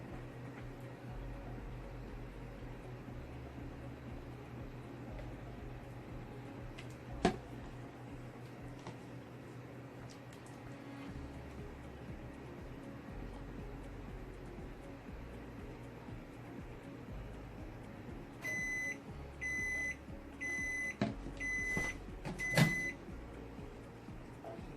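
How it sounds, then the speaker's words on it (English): Microwave oven running with a steady low hum and fan-like whir, ending in a series of short electronic beeps near the end; no talking. "pop them in the microwave real quick."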